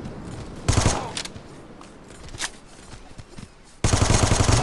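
Guns of Boom game gunfire crackles in sharp automatic bursts, one near the start and another at the end, with scattered single shots and game sounds in between.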